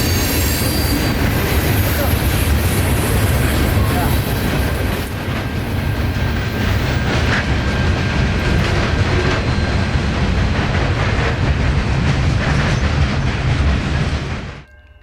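A CSX freight train rolls past loud and close on the scenic W&A railroad, a dense roar of wheels and rail noise with squealing flanges that holds steady the whole time, then cuts off abruptly.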